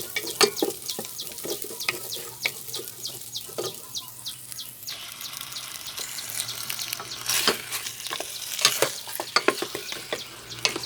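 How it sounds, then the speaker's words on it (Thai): Pork leg stir-frying in a pan for braised pork leg, a steady close sizzle with repeated sharp scraping strokes of the spatula throughout. "ใส่ขาหมูลงไปผัด ผัดให้สุกประมาณ สามสิบเปอร์เซ็นต์"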